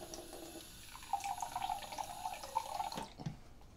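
Water trickles briefly from a tap into a bowl of eggs while making an apple tart, a soft steady running stream in a quiet kitchen that cuts off abruptly near the end.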